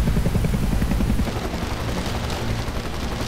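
A movie helicopter roars nearby, its rotor chopping in rapid low pulses at first before blending into a dense, loud mechanical rush.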